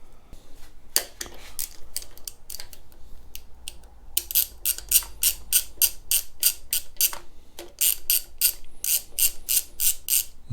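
A torque wrench ratchets on the aluminum oil filter housing adapter of a small block Chevy, with bursts of rapid, close clicking separated by brief pauses and no talk.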